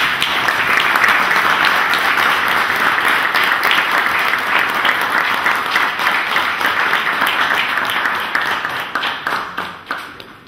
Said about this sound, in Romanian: și să-i aplaudăm!